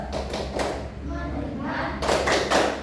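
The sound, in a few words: children clapping the 'tepuk fokus' class clap rhythm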